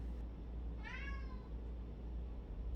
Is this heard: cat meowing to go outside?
yes